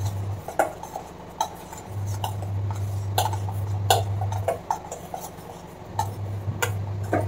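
A spoon clinks and scrapes against a bowl while sweet corn chaat is mixed with masala, giving irregular sharp taps over a steady low hum, close and fairly loud.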